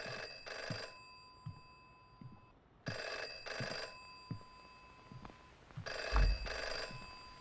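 Repeated double-burst rings from a telephone in the horror video game FM, three clear ring cycles with short silent gaps between, loud and close over a quiet background with faint low thumps.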